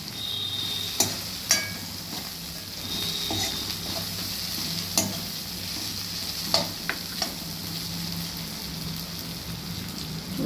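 Onions and potatoes frying in a pan, a soft steady sizzle with a few sharp clicks of a utensil against the pan, close and without talk.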